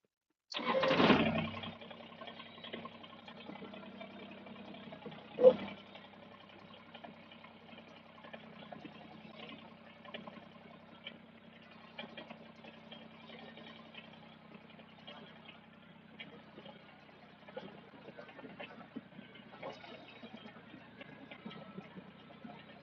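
A steady tractor engine drones on at an even idle-like pitch, preceded by a loud burst at the start and a brief knock around five seconds.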